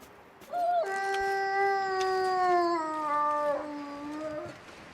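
Wolf howl in a survival video game, a long sustained tonal cry that holds steady then bends downward, fairly loud over a hissy ambient background, no talk.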